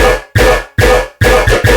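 A synthesized metallic bass run through Valhalla Supermassive reverb plays loud, repeated notes in a quick rhythm, each starting abruptly and then decaying, with short gaps between them.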